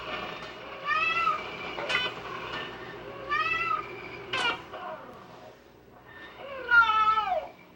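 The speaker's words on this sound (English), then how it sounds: "The meow is a composite call made of 2 different components." Several domestic cat meows, close and clear, with rising and falling tones in separate calls spread across the stretch and short pauses between them; no talking.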